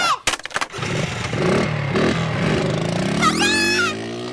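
A small scooter engine in a French-dubbed animated cartoon starts up and revs, droning as it pulls away, with a squeal of sound near the end.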